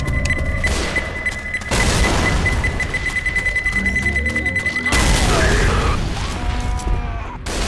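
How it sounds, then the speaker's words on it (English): A pipe bomb goes off in Left 4 Dead 2 amid loud gunfire and booming blasts, dense and continuous, with a steady beeping tone running through the first few seconds. "Pipe bomb out!"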